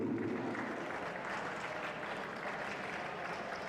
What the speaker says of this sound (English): That's now the time where you clap your hands.